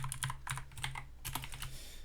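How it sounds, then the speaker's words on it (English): A computer keyboard is typed on in quick, uneven bursts of light key clicks, close and fairly quiet, with no voices. "I'm gonna type again."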